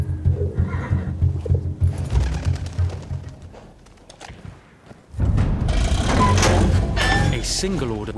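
Bedouin horses in the Battlefield 1 war game neigh and whinny amid clip-clopping hooves and mechanical clatter, loud and close, with a brief quieter lull before a fuller burst of sound returns.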